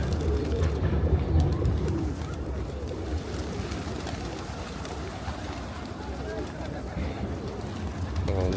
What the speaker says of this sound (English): Look at all these pigeons.